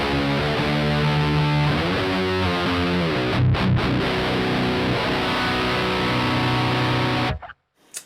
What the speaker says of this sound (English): I always use the crunch channel of the SS20, which is my main heavy distortion sound